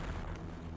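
A grenade blast in Metroid Fusion gives a brief, muffled low rumble that stays fairly quiet and dies away within a second.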